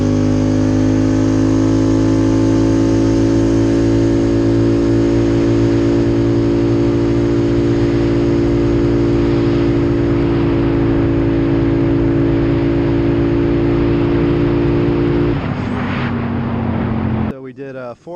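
A Polaris Sportsman Highlifter ATV running an RVS tune with GSE exhaust and 32-inch tires holds a loud, steady engine drone through a 0-60 run, then drops off sharply near the end.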